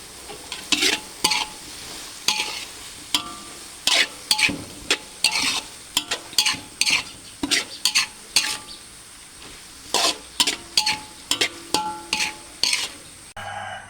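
Green mussels with baby corn, chili and holy basil are stir-fried in a hot pan, with a spatula scraping and clacking in quick repeated bursts over a continuous close sizzle.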